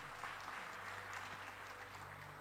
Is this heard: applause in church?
yes